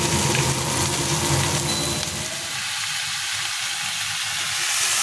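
Spice paste and lentil dumplings frying in a pan, a dense close sizzle that softens partway through into a gentler crackling fry.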